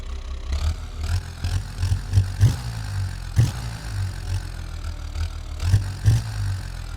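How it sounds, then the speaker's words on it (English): Diesel engine idling close by, a low clattering rumble with a steady knock and several uneven surges in loudness, heard alone without talk. "Wow, that sounds like diesel indeed."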